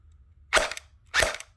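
Cyma G18C electric airsoft Glock pistol firing two crisp, snappy semi-auto shots about half a second apart, sharp and close with a brief mechanical rattle after each.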